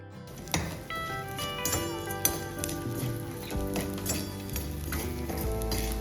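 Edible gum fries and puffs in a pan of ghee over low heat for traditional panjiri, a steady close sizzle dotted with small pops and crackles, plus a few clinks of a stirring spoon.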